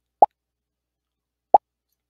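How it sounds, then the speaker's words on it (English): Two short, soft pop sound effects from Scratch, spaced over a second apart in silence. "it's just like a little pop sound"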